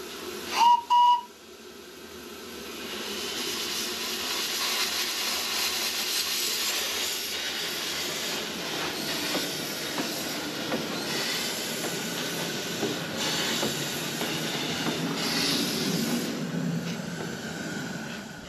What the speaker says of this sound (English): I'm now going to put it in reverse gear and toot the whistle before we move.